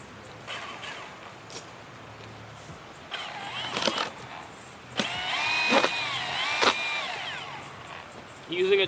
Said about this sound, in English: I used a chainsaw to cut the plastic.